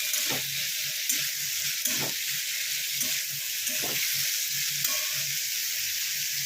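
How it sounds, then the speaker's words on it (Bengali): Potato pieces frying with onions in a pan, a strong, steady sizzle with repeated scraping and knocking from stirring spread across several seconds, no voices. "আলুটাকে এবার ভালো করে ভেজে নেব।"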